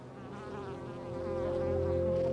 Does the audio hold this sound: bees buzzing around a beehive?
yes